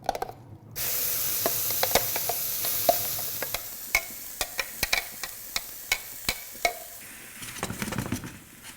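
Pureed onion and garlic with a little olive oil tipped into a hot pan, a loud hiss and sizzle at first, then a spoon scraping and clacking against the pan in regular sharp strokes, close by with no talking.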